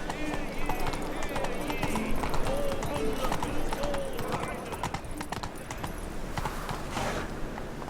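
A horse gallops in The Witcher 3, with rapid, steady clip-clop hoofbeats throughout, close and prominent, as a voice speaks briefly over the game sounds.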